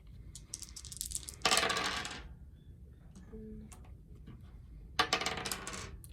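Dice clatter on a table during a two-player board game. There are two distinct bursts of rattling about three seconds apart, each lasting under a second, and quieter ticks and clicks in between.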